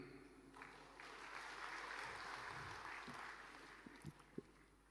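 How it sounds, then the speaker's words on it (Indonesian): Audience applause at a government address, a faint, distant wash of clapping that swells gently and persists, with a few brief knocks near the end. "Jangan terlalu cepat tepuk tangan."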